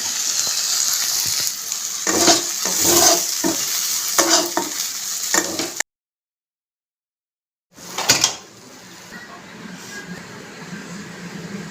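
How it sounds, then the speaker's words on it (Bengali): Loud sizzling of water lily stems in a frying pan over a gas stove with scraping stirring strokes, cut by a short silence, then a softer continued sizzle. "শাপলা ভাজা হয়ে গেছে, নামিয়ে নেব"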